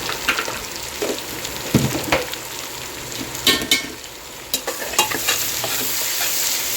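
Onions and mint frying in a pan for tomato rice, a steady close sizzle broken by scraping stirs and spoon knocks, with no voices.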